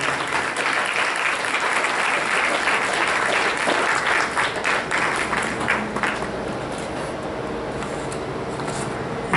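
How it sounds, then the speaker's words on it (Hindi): A large audience applauds at an award ceremony for a satsang grand finale, loud and dense at first with sharp individual claps standing out, then thinning and easing into a softer, steadier patter. "I would like you to give a very big round of applause to them."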